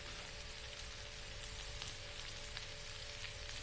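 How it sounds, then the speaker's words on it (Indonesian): Spice paste of turmeric, galangal and ginger stir-fried in a pan for pindang iris, a steady soft sizzle running throughout with no voices. "Ini tumis sampai bumbunya harum dan lembut, sampai layu."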